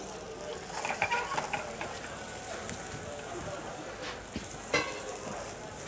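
Rabbit pieces sear in vegetable oil in a pan, giving a soft, crackling sizzle with scattered pops, fairly quiet and steady throughout.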